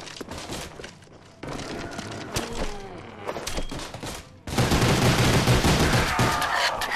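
Gunfire in Call of Duty Zombies: scattered loud shots and thuds at first, then a dense, continuous burst of heavy firing that fills the last few seconds.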